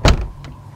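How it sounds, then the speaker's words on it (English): A door in the Cry of Fear video game rattles without opening: a single loud close clunk, then a fainter second knock. "The door won't budge."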